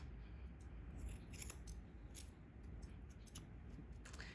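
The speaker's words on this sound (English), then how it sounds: "you just want to keep pulling the hairs out in between the pads and cutting" Small scissors snip the hair between a Cavalier King Charles Spaniel's paw pads, giving a series of faint, quick metallic cuts at irregular intervals over a low steady background hum, with no talking.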